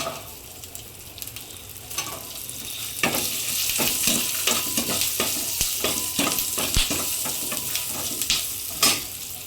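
A handful of small shallots fry in a hot pan at home, a steady crackling sizzle that swells louder midway, broken by scattered sharp clicks and scrapes of stirring, no voices.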